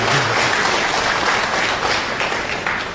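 Steady, dense applause from a large crowd at a Pheu Thai Party event in Thailand, continuous and fairly loud throughout.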